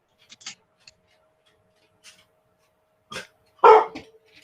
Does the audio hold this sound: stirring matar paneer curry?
no